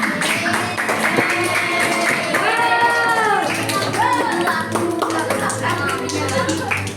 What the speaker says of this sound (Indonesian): Beri tepuk tangan buat temennya.